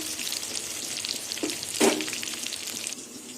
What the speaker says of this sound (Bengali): বেগুনটা লাল লাল করে ভেজে নেব